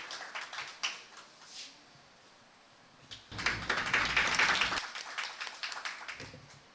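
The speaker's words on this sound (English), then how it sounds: "Please give them a huge round of applause." Applause for the organisers at the final round of a national moot court competition, a crowd clapping loudly and steadily for about a second and a half before tapering off amid lighter scattered claps.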